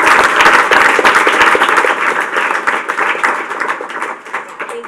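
Sustained applause from an audience thanking the panelists at the close of an evening customer success panel event, dense steady clapping that holds loud for several seconds before easing slightly.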